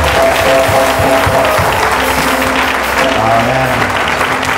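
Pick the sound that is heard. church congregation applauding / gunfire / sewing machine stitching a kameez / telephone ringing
church congregation applauding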